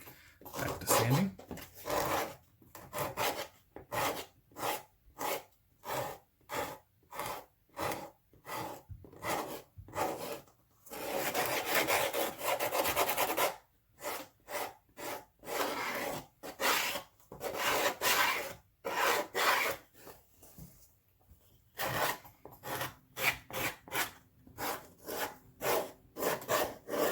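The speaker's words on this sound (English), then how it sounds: "Back to sanding." Steady back-and-forth rasping strokes of sanding leather, repeated in bursts with brief pauses, close and fairly loud.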